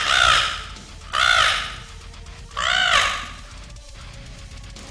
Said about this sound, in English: imagine the crow sound with